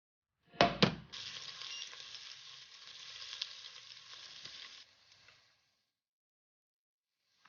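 Prawns hit hot stir-fry oil blended with garlic, a sharp initial spatter followed by a steady close sizzle that holds for about four seconds and then dies away into silence.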